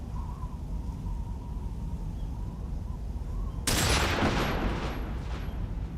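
Gunfire in the Metal Gear Solid 3 video game: a sudden loud burst of shots breaks over a low steady ambient hum and keeps ringing for a couple of seconds.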